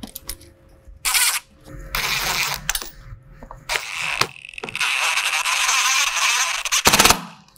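A ratchet tightens a bolt on a Razorback Offroad fixed glass windshield in rapid clicking bursts of varying length, close and loud, separated by short pauses and handling noises.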